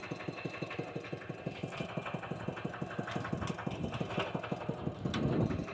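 Small engine chugging steadily in first gear, with a rapid even knocking pulse, close and continuous, rising slightly near the end.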